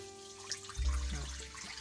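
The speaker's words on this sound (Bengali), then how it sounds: "সেই জন্য আমি দিয়ে দিচ্ছি হাফ কাপ জল" Half a cup of water is poured into a pan to start a sugar syrup for sweet dessert-making, a soft, brief splashing pour that begins partway through and continues quietly to the end.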